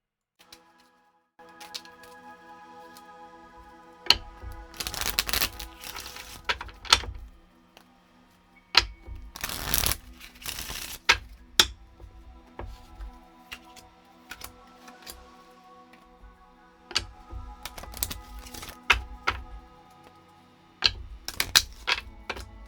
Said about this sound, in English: was shuffling for you guys